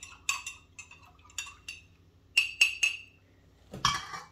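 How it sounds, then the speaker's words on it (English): A spoon stirs a hot toddy in a glass, giving a few light clinks, then a quick cluster of brighter taps and a final clink, close and otherwise quiet. "We're going to give this another slight stir."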